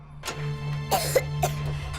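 A few short coughs, the loudest bursts near the middle, over a low steady hum in a quiet room.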